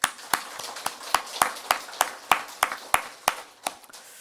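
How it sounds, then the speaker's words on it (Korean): Clapping from a church congregation during a Sunday Thanksgiving service: about a dozen sharp, evenly spaced claps in a steady rhythm over four seconds, close and fairly loud, with no talking. "하나님께 영광의 박수를 올려드립시다"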